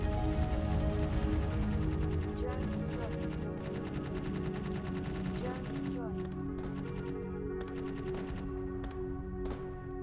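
Rapid automatic gunfire from the video game Space Engineers hammers in dense, steady bursts over a droning background, loud and continuous throughout the clip.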